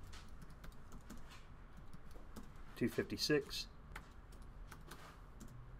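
Soft typing on a Mac computer keyboard, quick clicks scattered throughout, with a brief burst of speech partway through.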